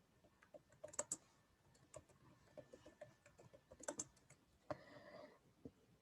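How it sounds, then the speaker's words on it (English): Computer keyboard typing in a quiet room, scattered soft keystrokes in irregular bursts with a few sharper clacks, close and fairly faint, with no talking. "we will start typing"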